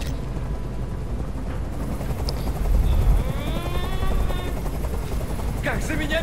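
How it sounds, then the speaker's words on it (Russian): A helicopter in the video game Detroit: Become Human gives a steady, loud rotor drone throughout, with sharp gunfire-like bursts and voices mixed in. "Прикажи им, чтобы вертолет убрался!"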